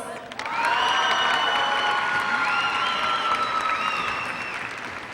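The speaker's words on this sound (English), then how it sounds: "Let's give our top scholars a traditional Tiger round of applause." A graduation audience at a 2014 high school ceremony applauds loudly and steadily for the top scholars, with cheers and whoops rising over the sustained clapping of a large crowd.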